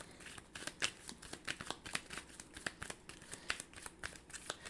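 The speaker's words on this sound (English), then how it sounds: "foot soldier decks that I'm going to shuffle." Sleeved card game decks, the foot soldier decks of a Power Rangers: Heroes of the Grid board game, being shuffled in cheap side-loading sleeves. The riffles come as quick, crisp rapid slaps in steady bursts, close and moderately quiet, with no talking.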